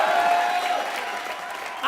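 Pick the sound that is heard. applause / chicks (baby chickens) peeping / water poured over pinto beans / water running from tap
applause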